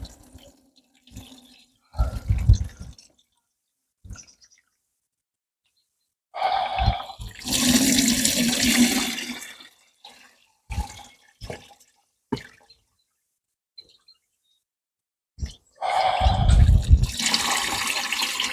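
Melted beeswax being strained in a few separate bursts of pouring, splashing liquid with short gaps of quiet between them, fairly close and loud, with no talk over it.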